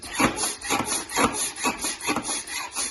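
Repeated hand strokes pumping a LiquiVac portable oil changing unit while draining oil from a Dodge Caravan, about five or six even rubbing pulls in a steady rhythm, close and moderately loud with no talk.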